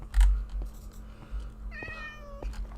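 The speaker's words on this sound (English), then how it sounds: "Oh, hello, adorable little kitten." A kitten in a video game gives a couple of soft, high meows, short and close, over a low steady background hum.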